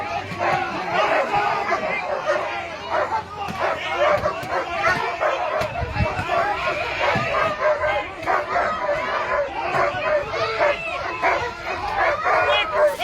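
Dogs barking at peaceful demonstrators in Copenhagen, where police had earlier used batons; sharp repeated barks and yips ring out over crowd chatter and shouting voices, fairly close and continuous.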